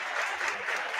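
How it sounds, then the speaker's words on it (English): Crowd in a high school basketball gym applauds an injured player as he gets back on his feet, a brief, dense wash of clapping at moderate distance. "quick round of applause for Jay as he's now up on 2 feet"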